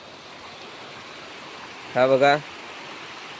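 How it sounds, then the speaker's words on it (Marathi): Steady water flowing over a small village dam, a continuous broadband rush throughout, with a short burst of someone talking briefly over it. "हे पाणी बघा तुम्ही, पाणी बघा कसं जातं मित्रांनो"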